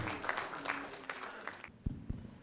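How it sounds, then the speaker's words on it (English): A panel-session audience gives a short round of applause for the moderator and panelists, dense clapping that cuts off abruptly, followed by a few isolated low thumps in a quieter room. "Can we have a big round of applause for the moderator and all our panelists?"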